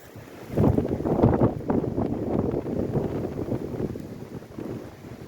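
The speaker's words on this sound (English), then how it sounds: "Ooh, that wind." Strong wind gusting across a rough forest trail in the Talladega National Forest, a loud, close rushing roar that swells and buffets the microphone, then eases slightly. No one speaks.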